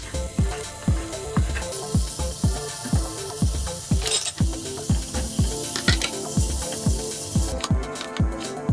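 Diced beef steak pieces hiss and sizzle loudly in a hot pan for a quick caldo, a dense frying crackle under a steady beat of rhythmic thumps close by.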